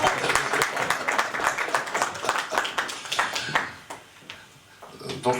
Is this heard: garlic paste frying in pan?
no